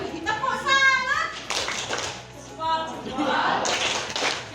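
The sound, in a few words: children doing the 'tepuk salut' clap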